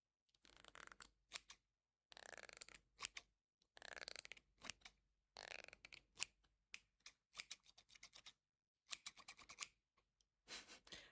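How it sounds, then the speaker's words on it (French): Scissors snipping through wig or hair up close in a quiet ASMR setting, with bursts of crisp metallic cuts in irregular clusters separated by short silences. "est-ce que je maîtrise la paire de ciseaux?"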